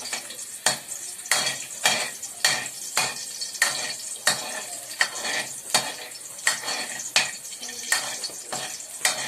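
Garlic fries in a pan for pinakbet, a steady sizzle under repeated rhythmic scraping strokes of a utensil against the pan, roughly one every second, close up with no talk.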